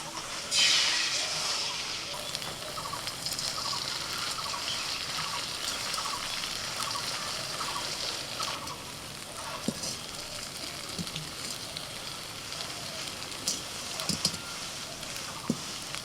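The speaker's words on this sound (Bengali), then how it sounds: "একটু সর্ষের তেল দিয়ে দিলাম তেলের মধ্যে এবার ডিম দিয়ে দিচ্ছি" Beaten eggs with a little turmeric frying in mustard oil, a steady broad sizzle throughout with occasional small pops and crackles, fairly close and continuous with no talk.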